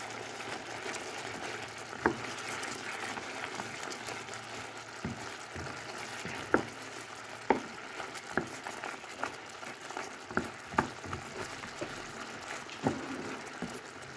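Almonds stirred in a pan while making candied almonds, quiet bubbling simmer with scattered scraping clicks at irregular intervals, close but faint.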